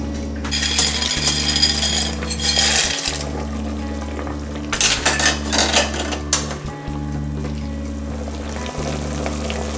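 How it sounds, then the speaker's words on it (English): Dry pasta rattles and clatters into a metal pot of boiling water over a steady kitchen hum, with scattered metallic clinks and a softer rustling burst later. "And now I'll take the pasta and add it to the boiling water."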